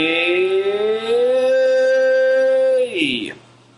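A single sung octave siren vocal exercise, a voice gliding smoothly from a low C3 up to middle C4, holding the top note steadily before dropping off abruptly at the end.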